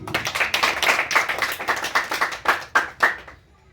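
A classroom of students claps for their teacher, a lively burst of many hands that thins into a few separate claps and ends abruptly.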